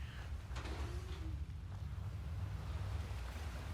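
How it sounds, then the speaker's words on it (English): Ocean waves washing onto a beach in Fallout 4 make a steady, low surf rumble, with some wind over it and a faint brief tone near the start, continuous throughout with no talking. "Oh, they have an actual beach."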